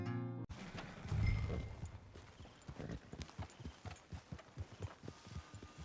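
A horse's hooves clip-clop steadily in Red Dead Redemption 2, an even walking rhythm of close, distinct hoof strikes after a brief louder rumble near the start.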